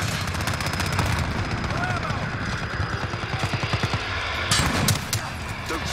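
Rapid automatic gunfire from an MP7 in Call of Duty Modern Warfare rattles in a sustained burst, with another sharp volley near the end, under game sounds and a player's voice.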